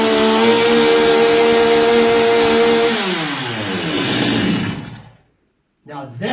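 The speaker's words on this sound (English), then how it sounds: "You need to hit your chainsaw." A chainsaw engine running loud and steady near the listener, then its pitch falls away and it cuts out into silence before a voice begins.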